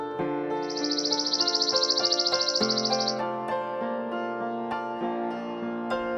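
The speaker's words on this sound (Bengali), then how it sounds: "চয়ে চড়ুই" A sparrow chirps in a rapid, bright trill lasting a few seconds, followed by scattered faint clicks and soft background noise, with no voices.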